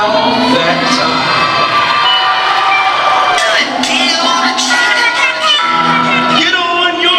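A basketball crowd at a game claps and cheers loudly throughout, with shouts and whoops from kids and adults rising over a steady roar of applause, nearby and dense.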